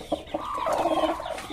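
A hen clucks close up in short, throaty bursts that run into a longer warbling cackle.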